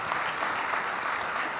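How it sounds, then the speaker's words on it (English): Gala audience applause, a brief, steady burst of many hands clapping at constant loudness, with no voices over it. "one more round of applause for all these incredible examples out there"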